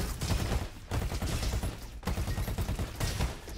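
Junk rifle firing in the video game Roboquest, rapid bursts of gunfire in two stretches split by a short pause, loud and close, with no talking.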